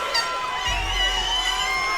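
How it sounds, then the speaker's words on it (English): Loud crowd at an MMA fight, a dense wash of cheering, whooping and shouting swelling as a round begins, steady and sustained throughout with no clear single voices. "This crowd is loud. People are on their feet all over the place here."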